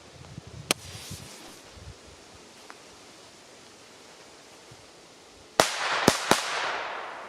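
A VOLT 3-3 XP1017 Triplex firecracker: a lone sharp crack early on, quiet outdoor hiss, then a burst of three loud bangs in rapid succession near the end.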